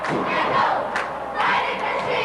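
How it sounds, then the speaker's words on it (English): A high school hockey crowd at an indoor arena in River Falls roars and chants, a dense, loud cheer rising and falling in two swells. "River Falls crowd now is finally getting warmed up"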